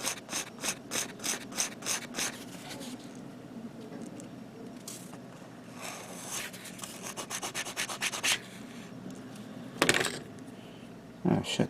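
Blade scraping hardened Tamiya putty off the surface of an MG 1/100 Freedom Gundam model kit, heard as a series of close, quick rhythmic scrapes in bursts with a few sharper ticks near the end.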